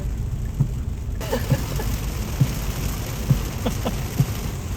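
Rain falls steadily outside as a dense, even hiss, with a few faint soft knocks standing out against it.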